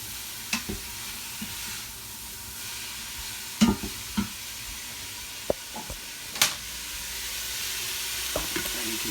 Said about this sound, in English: And you can see that sauteing